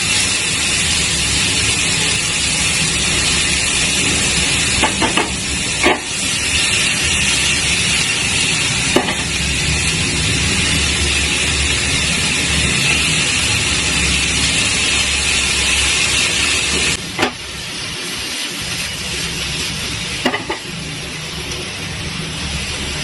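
Onions frying in a pan for galouti kebab, a loud continuous sizzle with occasional stirring scrapes and clinks throughout.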